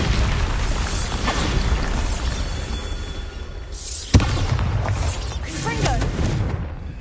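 A Bombarda blasting spell detonating in the video game Hogwarts Legacy, with one sharp, loud boom near the middle over a constant rumbling game soundscape, followed by a fading crackle.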